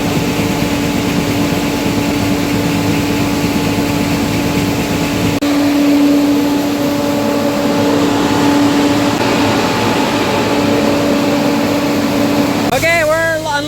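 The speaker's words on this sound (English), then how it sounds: "we're gonna try to get another batch of corn dried here." A corn grain dryer runs steadily on a dairy farm, a loud continuous mechanical drone with a steady fan-like hum and tonal whine, unchanging throughout before a brief squeak near the end.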